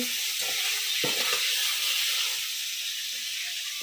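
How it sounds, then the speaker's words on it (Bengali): Koi fish (climbing perch) fry in a pan at home, giving a close, constant sizzling hiss with a few soft pops. "এই কই মাছটা ভাজছি,"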